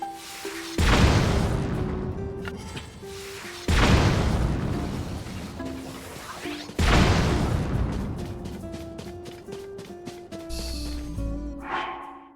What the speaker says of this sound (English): that shield's just turning into a cannon currently